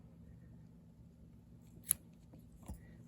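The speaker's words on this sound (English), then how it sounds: "And then what we're going to do is snip all these ends," Scissors snip the loose yarn ends off a small crocheted snowman, giving two crisp, close snips over a quiet background.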